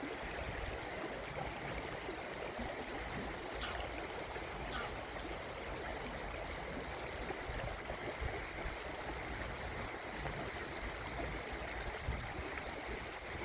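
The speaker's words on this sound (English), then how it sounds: "Now the Spey is sort of a medium-sized river up here" The River Spey, a medium-sized Scottish salmon river, rushes as a steady broadband wash of flowing water, constant and fairly close, with no voices.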